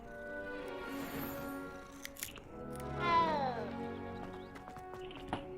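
A cat meows in the video game Hogwarts Legacy, one long rising and falling call against steady background game music, with a few short clicks around it.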